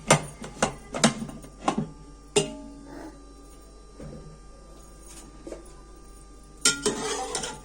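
Clanking of a pressure cooker being opened and metal pots and utensils, with a few sharp clatters and knocks, then quieter handling before a final burst of clattering.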